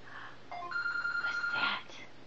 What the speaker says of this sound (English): Is that Puppy's phone?